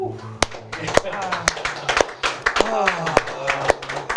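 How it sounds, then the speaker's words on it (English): An audience gives a collective slow clap at a live songwriting session, sharp individual claps landing about every half second in an even rhythm, with a voice talking over them. "Just a collective slow clap"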